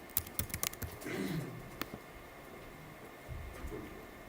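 A short burst of typing on a computer keyboard while entering a word into a spreadsheet cell, quick close clicks at first, then a few scattered taps and quiet rustle, no talking.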